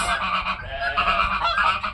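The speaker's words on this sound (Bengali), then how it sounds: "এগুলো হচ্ছে হাঁস।" Ducks on a farm call in a steady run of loud, nasal quacks and honks that overlap one another without pause, close by.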